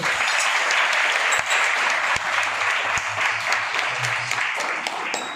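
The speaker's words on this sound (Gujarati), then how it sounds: "તાળીઓથી વધારીએ." Audience applause fills the room, a steady dense clapping that stays loud throughout, honoring a child tabla player at a performance event.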